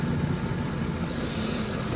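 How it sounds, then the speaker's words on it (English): Ford F-150 engine with new head gaskets idling smoothly, a steady low rumble with an even, continuous hum and no misses or knocks, heard up close with no voices. "It's so quiet and smooth with all the new head gaskets."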